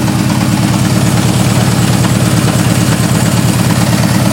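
A Honda Hondamatic 750 motorcycle engine idles roughly on only two of its cylinders, a loud, close, uneven low throb with a lumpy rhythmic pulse.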